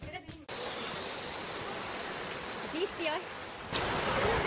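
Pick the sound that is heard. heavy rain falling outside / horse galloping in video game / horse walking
heavy rain falling outside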